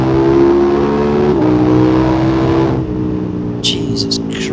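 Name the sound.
KTM 1290 Super Adventure S motorcycle accelerating hard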